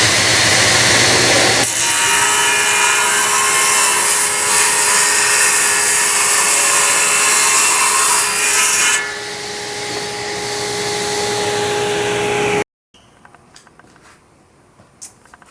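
Power saw with its blade tilted 2.5 degrees cuts a bevel along the bottom of a wooden block: a loud, steady whine and rasp that holds for about eleven seconds, eases partway through, then stops abruptly, leaving faint knocks.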